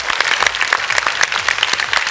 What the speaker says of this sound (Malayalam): അതിന് ഒരു കൈയടി കൊടുത്തേക്കാം കേട്ടോ